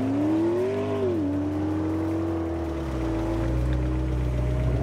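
A McLaren 650S drives on the Sonoma Raceway slalom course, its engine a steady close drone that rises briefly in pitch near the start, then settles into an even, sustained hum with no talking.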